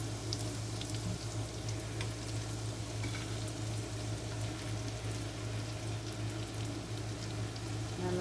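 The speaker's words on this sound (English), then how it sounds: "Now I'm going to go ahead at this point and add my fish to this." Fish cooks in a pan of seasoned home-canned broth in a farm kitchen, giving a steady, even sizzle and bubbling hiss with a low constant hum underneath and no voices.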